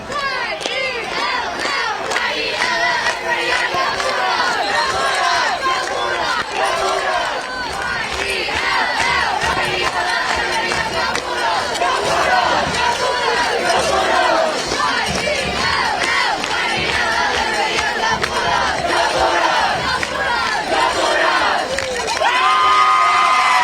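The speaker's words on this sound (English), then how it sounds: "Let's see how you guys were celebrating that last big score." A high school student section roars and cheers at a Milton-Union Bulldogs home football game against the Oakwood Lumberjacks, a loud, dense crowd of shouting and whooping voices sustained without pause, close and overwhelming.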